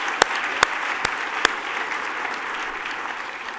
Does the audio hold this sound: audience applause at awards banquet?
yes